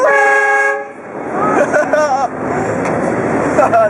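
A train horn fitted to a car blares in a loud, sustained blast at a car cruise event, then more short bursts follow while excited voices shout and talk over it.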